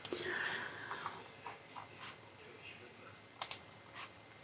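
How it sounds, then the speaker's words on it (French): Sparse clicks and taps from a computer mouse and keyboard, quiet and close, with a few brief bursts of quick clicking. "J'espère que vous appréciez les bruits de souris et de clavier."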